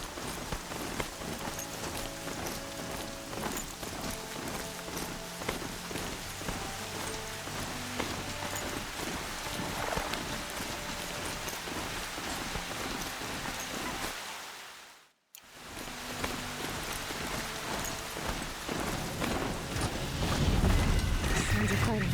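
Rain in the video game Horizon Zero Dawn, a steady wash of falling drops mixed under music and game sounds, with a brief silent gap midway before the dense, continuous rainfall resumes.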